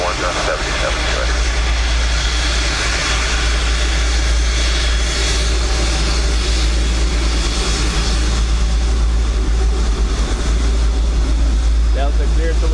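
A Delta airliner rolls for takeoff on runway 10 right at a wet, windy Dublin Airport, its engines a loud, steady low roar with rushing wind noise building throughout, while a voice talks over it.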